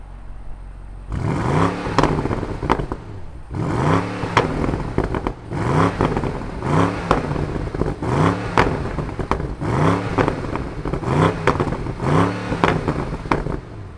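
A 2021 BMW M550i sedan's engine starts with a burst, then revs repeatedly in about six sharp, evenly spaced blips that rise and fall, loud and close with no talking.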